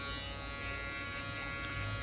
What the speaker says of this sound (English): And now with my foil shaver, I'm just going up and cleaning up all that stubble